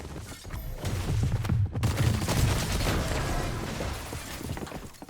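Gunfire in the video game Fortnite comes as a quick burst of shots followed by a mechanical clatter and a rumbling tail, moderately loud, with no talk over it.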